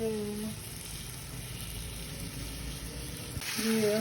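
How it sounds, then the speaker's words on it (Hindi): Chicken frying in a pan with garlic ginger paste, giving a steady close sizzle throughout, with a brief stir near the end. "लहसुन अदरक का पेस्ट डालने के बाद हम इसको हल्का सा फ्राई करेंगे।"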